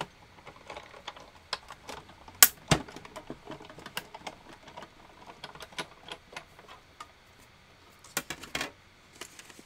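A hand-cranked die-cutting machine pushes a card-stock cutout through its rollers, giving a run of close, dry clicks and small clacks with a few louder snaps. No one speaks.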